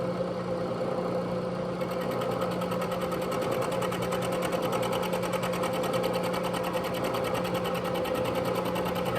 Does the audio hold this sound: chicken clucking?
no